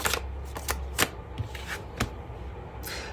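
Tarot cards being shuffled and drawn, a run of crisp riffling snaps and soft slaps close by, with several sharp card flicks spaced through the stretch and no talking.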